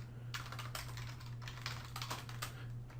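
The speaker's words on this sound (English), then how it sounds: "typing and talking at the same time" Rapid, close typing on a computer keyboard while code is being written, with irregular bursts of key clicks over a low steady electrical hum.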